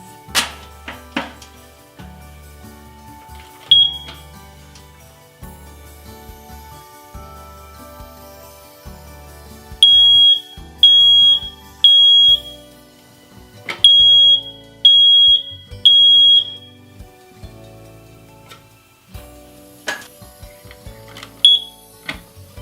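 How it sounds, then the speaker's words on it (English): Sharp high-pitched smoke alarm beeps, a few scattered at first, then a regular series of loud chirps in quick succession, with some handling clatter between. "let's check our smoke alarms"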